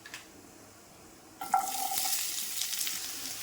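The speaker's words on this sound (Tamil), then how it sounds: "இப்போ அதே பேனில் எண்ணெய் ஊற்றி எண்ணெய் காஞ்சாச்சு. வெங்காயம் போட்டுக்கலாம்" Onions dropped into hot oil in a pan for a sautéed chutney, a sudden loud sizzle bursting in after a quiet pause and then crackling on steadily with light stirring noise.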